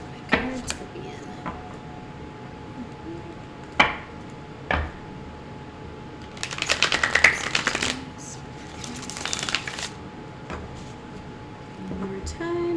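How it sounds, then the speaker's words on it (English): Tarot cards are shuffled in several quick riffling bursts between sharp taps and handling sounds, with quiet pauses in between. "One more time, I will shuffle."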